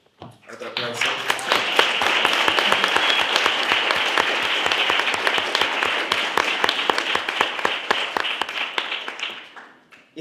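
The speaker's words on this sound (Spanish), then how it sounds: "Otro aplauso" Sustained audience applause fills a conference hall at a talk on sex workers' rights, dense steady clapping rising quickly and holding for about ten seconds before tapering off.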